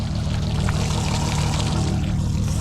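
Water pouring out of a flooded Seadoo jet ski whose hose came off, a close, continuous heavy gush with a low, rumbling splash throughout.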